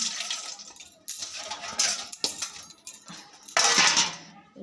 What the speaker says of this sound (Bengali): পুনিটা একটুখানি ধুয়ে নিলাম